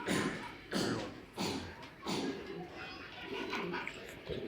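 Racing pigeons cooing close by in a loft, several soft repeated coos in bursts about every two-thirds of a second over low rustling.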